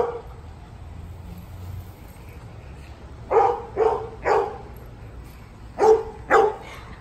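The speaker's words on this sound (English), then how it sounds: "here's my dog" Dogs barking in a backyard, a few sharp, fairly close barks in two short bursts, three then two, over quiet outdoor ambience.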